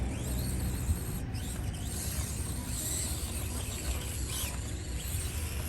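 An Axial RC crawler car named Turbo climbing over terrain, a faint, continuous whir of its small motor and gears with occasional creaks and scrapes, no one talking.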